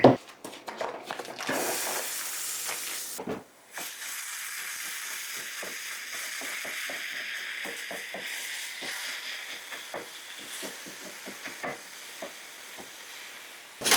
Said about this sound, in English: We'll get this pan heated up so we can get the beef browned.